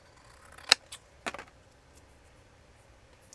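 Scissors snip paper for a junk journal craft project: two or three short, sharp cuts close by in an otherwise quiet room.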